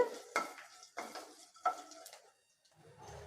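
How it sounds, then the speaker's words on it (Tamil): Cloves and kalpasi are lightly dry-roasted in a pan, with three distinct metallic clinks and scrapes of a spoon against the pan, quiet and close, with only faint background sizzle between strokes. "இப்போ இதை லேசாக வறுத்து விட்டுறலாம் கருக விட்டுறக்கூடாது"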